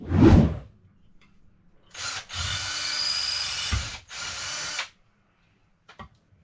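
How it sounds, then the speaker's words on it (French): Power drill boring holes in a steel bar for a stove grab bar: a brief loud whir, then two sustained high drilling runs of about two seconds each, close and loud, separated by a short pause, with a faint knock at the end. "Je vais percer mes trous, puis je vais la poser."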